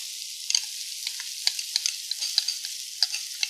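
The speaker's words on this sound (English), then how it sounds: "As it's melting, we're going to add in our onions, as well as our minced garlic." Onions and minced garlic fry in melting fat in a pan for a creamy Tuscan-style salmon, a soft high hiss broken by scattered crackles and light stirring clicks, quiet and close.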